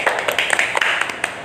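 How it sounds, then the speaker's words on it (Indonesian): An audience claps for three guests on a student podcast about small businesses, giving a brisk scatter of hand claps that runs steadily for a moment without any talking. "Tepuk dulu dong mereka bertiga."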